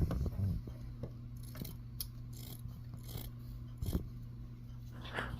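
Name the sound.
cutting rag cloth into squares for char cloth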